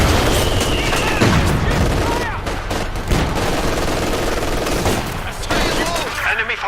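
Gunfire and machine-gun bursts from a Company of Heroes 2 multiplayer battle, with a fusillade of rapid shots and booms running throughout and a voice talking over it.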